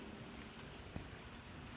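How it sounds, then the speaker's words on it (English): Light rain just beginning to fall outdoors in Eugene, Oregon under smoky skies, a steady soft patter of drops spread evenly across the scene with no talking. "It's just started raining in Eugene, Oregon."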